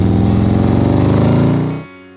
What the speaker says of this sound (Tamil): ராஜா புதிய மோட்டார் சைக்கிள் வாங்கினான்